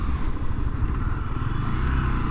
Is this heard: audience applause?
no